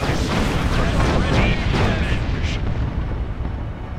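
Gunfire and explosions in a Warhammer 40,000 battle game: dense, loud, continuous rumbling booms and blasts that fill the whole clip without a break, with sharper bursts rising near the start.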